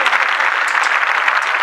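Loud, continuous applause from a crowd at the Yamla Jatt memorial fair in Punjab, a thick, even roar of clapping with no pause.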